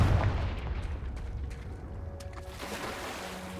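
A Confringo blasting spell explodes in the Hogwarts Legacy game, a loud low boom at the start rolling off into a fading rumble with faint crackling debris afterward.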